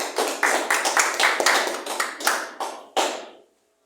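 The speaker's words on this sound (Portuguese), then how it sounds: "Pode dar uma salva de palmas para Jesus." Church congregation clapping in unison, a strong steady rhythm of roughly two claps per second, loud and close, running for about three and a half seconds before stopping abruptly.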